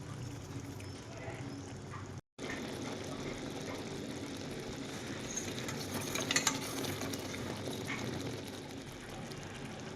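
Spice masala paste sautéing for paneer masala, a soft continuous sizzle with spoon stirring and scraping against the pan, briefly cut off early on, with a louder burst of stirring midway.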